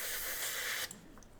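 An airbrush sprays out paint to clear it between colors, a loud steady hiss that cuts off sharply, leaving a faint softer spray and small clicks.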